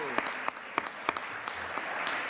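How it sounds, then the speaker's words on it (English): Applause in a state Senate floor session for Regina and Mikhail Marshall: dense, steady clapping from many hands filling the chamber, with a few sharper claps standing out near the front. "Let's give them a big round of applause,"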